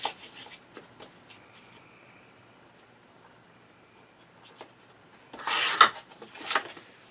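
Paper is cut for a Christmas card-making project, with soft scattered snips and rubbing at first and then a louder burst of crisp cutting and rustling near the end, close and quiet overall.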